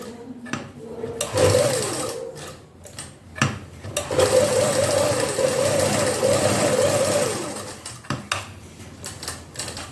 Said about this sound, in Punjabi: ਬੁਕਰਮ ਜਿਹੜੇ ਪਾਸੇ ਦਿਖ ਰਹੀ ਹੈ ਉਧਰ ਸਲਾਈ ਲਾਉਣੀ ਹੈ